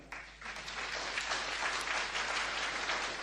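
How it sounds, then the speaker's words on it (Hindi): An audience claps together at a large Hindu religious darbar gathering in Pandokhar, Madhya Pradesh, a dense, sustained patter of many hands that swells after a brief start and carries on evenly, heard from some distance. "इस डर से ताली बजा लो।"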